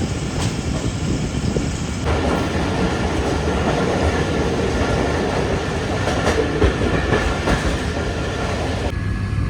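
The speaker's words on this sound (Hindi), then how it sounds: "तो कुछ इस तरह की स्पीड में ट्रेन हमारे गुजर रही है फ़िलहाल छांगा मांगा के जंगलात के पास से" A Pakistan Railways train runs at speed past the Changa Manga forest, a steady loud rumble with rhythmic clickety-clack of wheels over rail joints and faint wheel squeal throughout, no voices.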